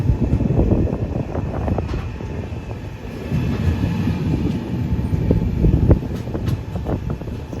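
A passenger train runs at about 110 km/h, giving a continuous rumbling roar with rhythmic wheel clatter and rattling from close by inside the carriage.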